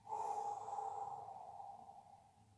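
A single long, soft breath out during a seated forward-bend yoga exercise, close and gradually fading, with no talking over it.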